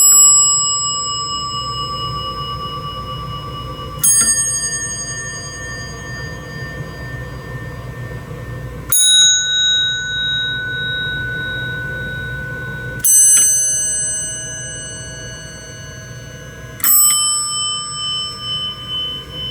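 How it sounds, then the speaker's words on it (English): Five separate elevator bell dings from various elevators, including Otis, Westinghouse and Adams, each a bright metallic strike ringing out and slowly fading before the next, spaced a few seconds apart with no talking. "This features 5 different elevator bells from various elevators."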